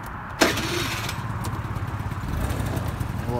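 A Honda Lead 50 AF48 scooter starts with a sharp crank burst, then settles into a close, steady pulsing idle from its small engine.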